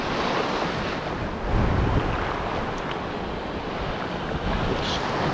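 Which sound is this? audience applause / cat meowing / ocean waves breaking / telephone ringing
ocean waves breaking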